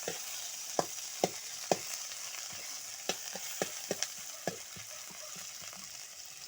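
Onion and tomato sautéing together in a hot pan, a steady loud sizzle with scattered sharp clicks and scrapes of a utensil stirring, close up and with no voices.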